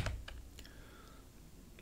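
Keys clatter on a computer keyboard as a folder name is typed into GIS software, a few quick soft clicks at close range in an otherwise quiet room.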